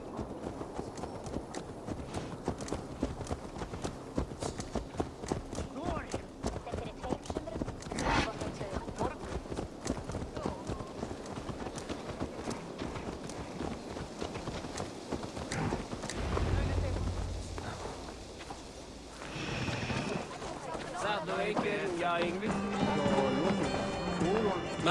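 Horse hooves in Assassin's Creed Valhalla clip-clop at a steady, rhythmic trot, close and fairly loud, continuing amid other game sounds and ambience.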